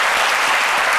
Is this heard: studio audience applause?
yes